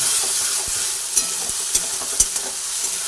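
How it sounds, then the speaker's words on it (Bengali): Spice paste fried and stirred in a pan for a chicken dish, a loud steady hiss of sizzling oil with a few crisp utensil knocks and scrapes spaced through it, close up with no voices. "মশলাটা বেশ সুন্দর করে নাড়াচাড়া করে নেবো"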